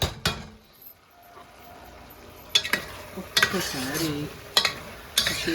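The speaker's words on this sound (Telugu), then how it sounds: "వేసేసుకుని ఒక్క నిమిషం వీటిని మంచిగా ఫ్రై అవ్వనివ్వండి" Vegetable pieces fry in a pan for a tangy tamarind curry, a low sizzle running underneath while a spoon stirs them in several sharp scraping, clattering bursts spaced a second or so apart.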